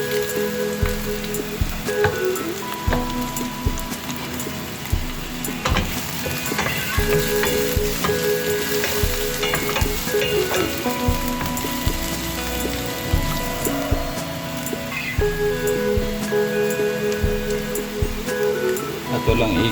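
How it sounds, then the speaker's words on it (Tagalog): Garlic sizzles and crackles steadily in a hot pan as it fries toward golden brown, a close, continuous sizzle with occasional stirring, under a person talking in Bisaya. "Ito lang i-golden brown ang garlic."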